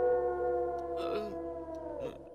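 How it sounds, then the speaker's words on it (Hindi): A dog howls at night in a horror-comedy film scene, a long wavering wail with tonal rises and dips lasting the whole stretch, fairly close and steady, with a brief noisy burst partway through and no talk over it. "भैया कुत्ता भौंक रहा है।"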